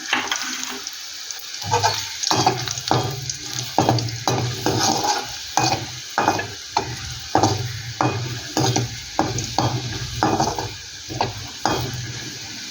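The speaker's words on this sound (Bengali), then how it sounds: "রসুনটা একটু ভালো করে একটু ভেজে নেব, একটু লাল লাল করে" Garlic fries in a pan, a steady sizzle broken by a regular run of spoon scrapes and stirring knocks, close and fairly loud, with no voices.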